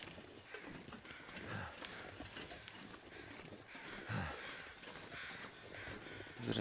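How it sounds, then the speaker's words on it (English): Crows caw in the survival video game The Long Dark, with harsh calls repeating at a moderate distance over a continuous wind-like outdoor ambience. "there's some crows up there."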